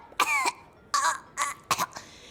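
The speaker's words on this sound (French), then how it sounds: "Une méchante toux." Cartoon character coughing in a short burst of four or five harsh, throaty hacks, close and clear, voiced as animation dialogue.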